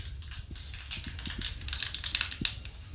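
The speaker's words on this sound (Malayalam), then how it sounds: "കടുക് പൊട്ടി വന്നിട്ടുണ്ട്" Mustard seeds and a few fenugreek seeds splutter in hot coconut oil, a quiet rapid crackle of small sharp pops, close and irregular, with no voices.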